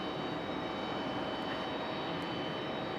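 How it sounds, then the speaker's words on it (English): A Frontier Airbus A320neo jet airliner at Raleigh-Durham International Airport makes a loud, steady engine roar with broad rushing noise and no talking. "Frontier 3372, A320 Neo."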